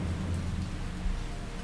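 Pouring rain in an animated movie scene: a dense, steady downpour with a low rumble underneath, filling the whole moment without any voices.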